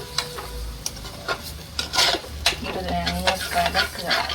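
Sardine curry being stirred in a pan after tamarind water is poured in, with repeated scraping, rasping strokes over a soft sizzle, close and fairly loud, no talking.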